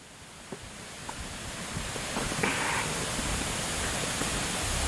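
A waterfall rushes as a steady broadband roar in the distance, growing slightly louder through the span, with a few faint knocks and rustles near the microphone.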